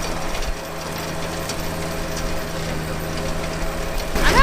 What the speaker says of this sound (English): reason number 1 why I don't like running the rotary cutter